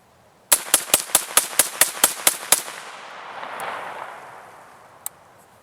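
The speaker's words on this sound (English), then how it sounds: "that was an M2 Select Fire M1 carbine." Ten rapid, evenly spaced shots from an M2 select-fire M1 carbine firing a loud automatic burst outdoors, followed by a fading echo that trails off, with one faint isolated pop afterward.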